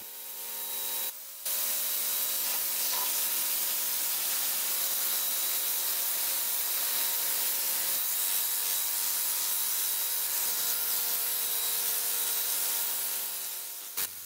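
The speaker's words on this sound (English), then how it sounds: "This is the Black & Decker pressure washer, which as you can see, does a pretty brilliant job." A Black & Decker pressure washer spraying water over outdoor surfaces around a house, a steady broadband hiss that runs close and loud almost the whole time, with one short break near the start and no talking.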